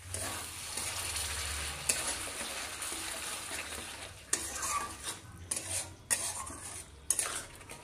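A spoon stirs yogurt into catla fish curry cooking in a pan, with soft scraping and clinks of utensil against the pan over a light frying sizzle, and a few sharper knocks toward the end.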